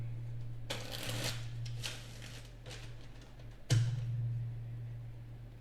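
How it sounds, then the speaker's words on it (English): Several quick riffling bursts of cards being shuffled, close and fairly quiet, over a steady low electrical hum. "so we're doing a 7-pack shuffle"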